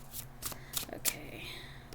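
Tarot cards shuffled by hand during a pick-a-card reading, a few quick soft riffling bursts close by with brief pauses between.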